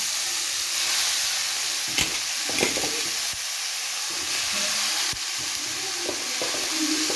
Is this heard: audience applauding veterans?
no